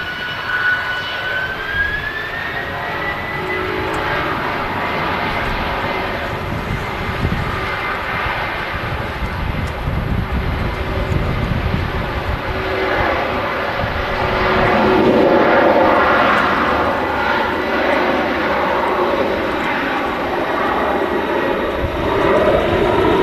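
Jet airliner engines spool up at Manchester Airport, a loud sustained roar with a rising whine early on and deep rumble throughout, swelling further midway.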